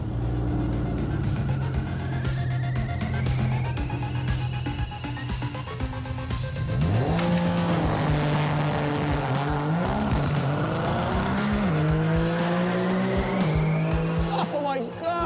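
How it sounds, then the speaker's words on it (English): A race car's engine revs hard and climbs in pitch as it pulls away, with tire squeal and skidding mixed into the loud, close roar. "The car left like a friggin' arrow."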